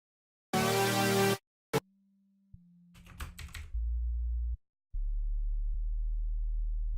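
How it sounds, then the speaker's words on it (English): Short sine wave synth notes from the Serum synthesizer sound as separate clean tones, some low and sustained, between brief bursts and clicks, with no voices. "because it's just a sine wave, this note especially gets pretty hard to hear"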